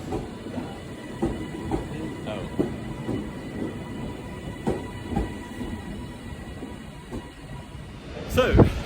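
A passenger train rolls along the rails with a steady low rumble, periodic clicks of wheels over rail joints and a faint hiss, moderately loud throughout, with a louder clatter near the end.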